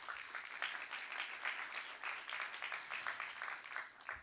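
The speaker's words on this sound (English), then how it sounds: "A round of applause for them," Audience at a corporate conference event applauding, a steady wash of many hands clapping at moderate distance, sustained through the whole stretch without letting up.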